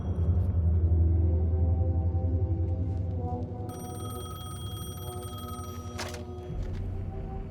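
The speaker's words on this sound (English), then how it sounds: "The payphone was ringing." A payphone rings in the Alan Wake 2 video game, a steady electronic trill that enters partway through over a low droning rumble and continues alone to the end.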